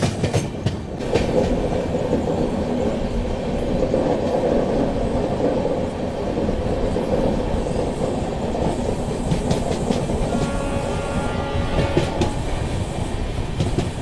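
Inside the UBL MAS SF 20680 superfast express from Hubballi to Chennai via Bengaluru, the carriage gives a constant rumble with rhythmic wheel clatter over the rails and brief squeaks, no talking.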